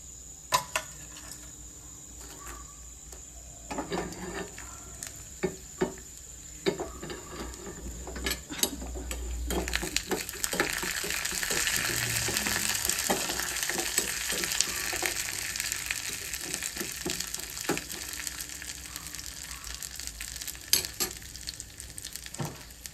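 Urad dal and chana dal fry in a pan with a steady crackling sizzle that swells louder midway, broken by occasional sharp clicks of stirring, with no talk.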